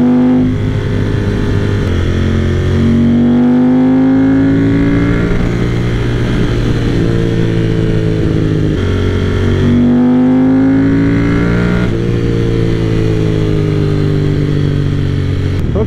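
A 1995 Ducati 900 SS/SP cafe racer rides through twisty roads, its engine loud and close, rising and falling through repeated revs and gear changes with steady wind rush.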